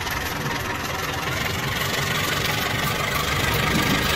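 Train engine running in a Roblox Indonesian railway roleplay game, a continuous dense rumbling drone with steady loudness and no talk over it.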